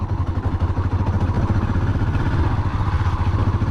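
A motorcycle ridden slowly at idle with the rear brake applied, a steady low engine rumble with slight clatter running continuously and fairly close throughout.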